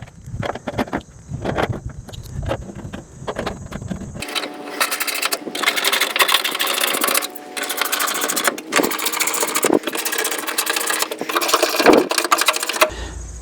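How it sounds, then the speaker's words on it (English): Bolts being fitted on a 1966 Mustang convertible during restoration: a dense run of rapid mechanical clatter and whirring, close and fairly loud, after a few seconds of quieter tapping and handling noises. "I'm going to install some bolts, new ones, to see how everything looks"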